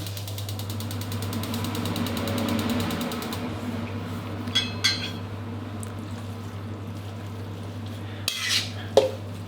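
A utensil stirs pork fat with salt and water in a pot on a stove, giving a few light metallic clinks and scrapes over a constant low burner hum.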